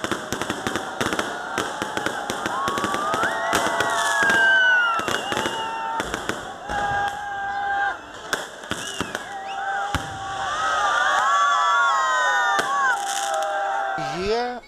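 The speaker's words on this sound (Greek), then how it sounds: "το σόου με τα πυροτεχνήματα που ακολούθησε έκλεψε την παράσταση" A New Year fireworks show in central Heraklion bursts in rapid, crackling volleys with sharp bangs and whistling streaks, loud and continuous, while a crowd cheers and shouts underneath.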